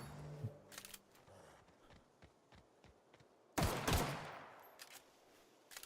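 Gunfire in The Outer Worlds: a string of sharp, evenly spaced shots, then a louder burst of rapid fire near the end, with no talking.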